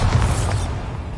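Bombarda blasting spell detonating in the Hogwarts Legacy video game: one deep, loud booming burst with a rumbling low end that decays over about a second.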